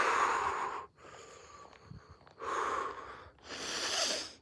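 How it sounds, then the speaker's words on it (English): Heavy, rapid breathing of a runner after a run outdoors at dusk, loud and close, in several long panting bursts separated by brief quieter pauses. "Trying to get my breathing down."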